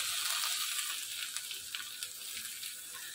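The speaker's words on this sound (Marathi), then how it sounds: "आता इथे आपण त्याच तुपामध्ये खवलेलं खोबरं आहे ते घालून घेऊया." Finely grated fresh coconut frying in ghee in a pan, a soft steady crackling hiss with faint scattered ticks, quiet and close, no talking.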